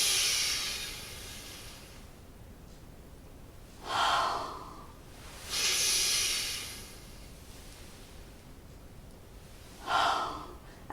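A person breathing out forcefully during an arm-lifting exercise, with three or four loud, airy exhalations and gasps spaced a few seconds apart, close to the microphone, with no talking.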